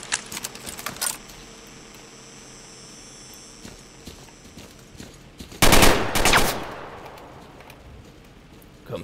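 Machine gun fire rings out in Call of Chernobyl against a background of faint clicks and rattles. Midway comes a short, loud, dense burst of rapid shots, then a quieter trailing rattle.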